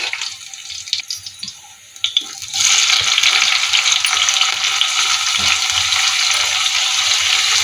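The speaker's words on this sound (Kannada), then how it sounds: "ಈಗ ಟೊಮೆಟೊ ಹಾಕೊಂಡು ಫ್ರೈ ಮಾಡ್ಕೊತಾ ಇದ್ದೀನಿ." Tomatoes frying in a pan of onions and curry leaves for mutton sambar, a loud, steady sizzle that starts after a couple of seconds of clinking and stirring and then hisses on continuously.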